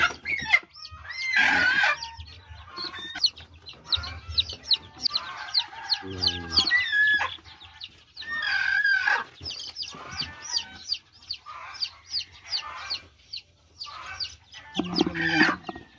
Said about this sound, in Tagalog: Dami na tayong mga ano, sisiw.